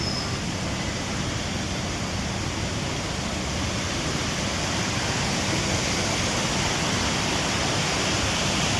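Dataphokari waterfall at Khandapada, Nayagarh, pours steadily in a dense, continuous broadband roar, close and unbroken throughout with no voices.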